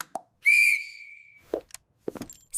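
A single sharp, high whistle blast stands out clearly against quiet surroundings, followed by a few short knocks and plops.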